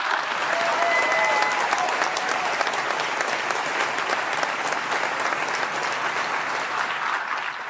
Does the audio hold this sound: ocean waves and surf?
no